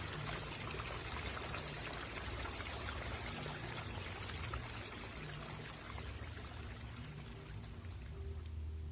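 Water pouring and trickling in a steady, continuous stream, close and fairly soft, with a faint low hum beneath and no voices, in a calm meditation setting.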